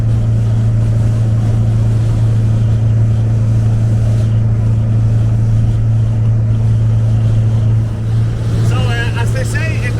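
A 1974 VW Beetle with a performance engine cruises at 65 mph, a steady loud engine drone with a strong low hum and road noise throughout, heard from inside the car.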